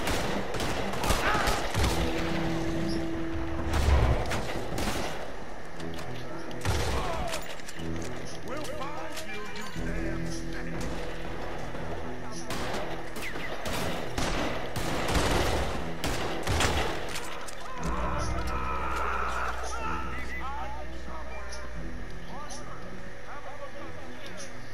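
A gunfight in the Western video game Red Dead Redemption 2, with bursts of rapid gunshots and single cracks mixed with horse hooves and whinnies, plus voices talking throughout.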